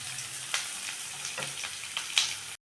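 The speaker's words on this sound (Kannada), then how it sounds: "ಸ್ವಲ್ಪ ಇದು ಫ್ರೈ ಆಗಲಿ." Ingredients for palak dal fry in hot oil until browning, a steady close sizzle broken by several sharp scrapes and knocks of a stirring spoon, then an abrupt cut to silence.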